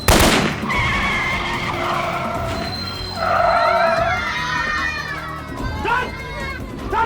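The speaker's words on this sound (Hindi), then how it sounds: "सालों ने गाड़ी के टायर पंचर कर दिए।" A vehicle with its tyres shot out and punctured skids loudly, with drawn-out tyre squeals and screeches over engine roar in a tense crime-drama scene, with voices shouting amid the noise.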